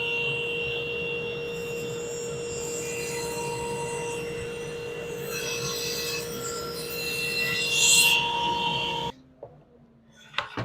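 A power saw cuts through a glued-up strip of epoxy and wood held on a jig, a steady loud whining hum with a rising grind near the end before it stops, leaving brief faint clatter.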